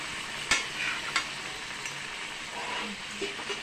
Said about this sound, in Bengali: তো বন্ধুরা, এবার আমি মাংসটাকে বসিয়ে দিলাম